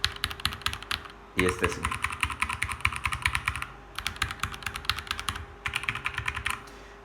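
Rapid typing on a Keychron V2 mechanical keyboard with weighted switch springs, dense clicky keystrokes in several bursts with short pauses, close up, with a brief spoken phrase near the start.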